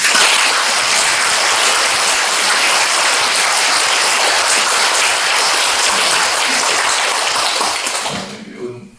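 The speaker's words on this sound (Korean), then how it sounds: "자, 오늘 앞에 신부님 열심히 사시라고 박수 한번 쳐주세요." At a Catholic Mass celebrating a priest's 40th ordination anniversary, the congregation bursts into loud, sustained applause lasting around eight seconds before quickly tapering off into near silence.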